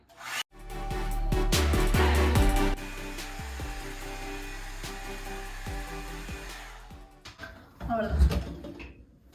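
A Revlon hair dryer blows steadily while styling hair, a loud, close whoosh that starts abruptly, runs continuously, then cuts off, with a voice talking over it and some handling clatter at the end.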